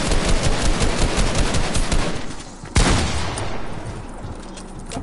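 Rapid gunfire rattles in a Fortnite squad match, a dense burst of close shots followed by a sharp boom and a fading tail, loud and alone.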